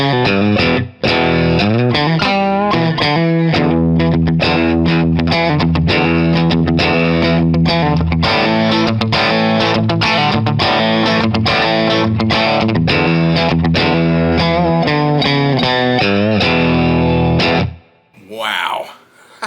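A USA-made PRS electric guitar plays loud, distorted chords and riffs with its humbucker pickup pulled up, ringing steadily for about seventeen seconds before cutting off, followed by a brief voice.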